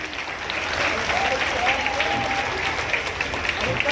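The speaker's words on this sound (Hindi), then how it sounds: "Please clapping." Sustained applause from an audience at a school award ceremony for a top-ranked student, dense steady clapping throughout with crowd noise.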